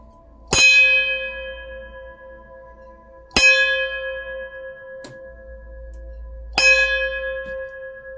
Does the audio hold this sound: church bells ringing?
yes